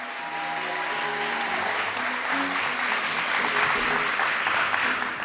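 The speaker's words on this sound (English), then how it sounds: "can I get another round of applause for our honors?" Steady crowd applause for college graduation honorees, continuous and fairly loud throughout, with a faint held musical tone and murmuring voices underneath at the start.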